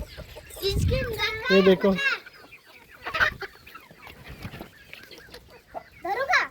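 Village chickens clucking close by among a few farm hens, heard in short bursts alongside children talking and an adult voice.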